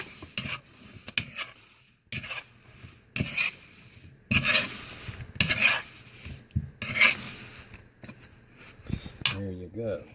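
Crispy chicken wings are tossed and stirred in sauce in a bowl, giving wet scraping and rubbing clatters in irregular bursts, close by.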